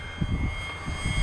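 A Durafly Brewster F2A Buffalo 920mm RC model plane flies in strong wind on its maiden flight, giving a steady engine drone with low wind buffeting underneath.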